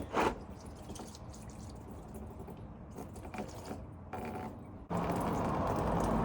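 Coolant drains from a Nissan 350Z radiator, trickling and dripping steadily at close range, then swelling into a louder, fuller stream near the end.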